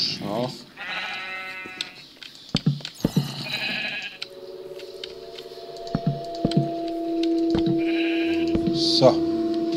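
Sheep in the Minecraft video game bleat a few times in short game-sound bursts, heard amid a player's talk, keyboard clicking and a sustained tone from the game.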